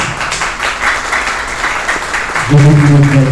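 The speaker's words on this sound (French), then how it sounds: "Sous vos applaudissements." Audience applauding at a certificate award ceremony, a dense burst of clapping from a full room, with a voice starting to speak over it near the end.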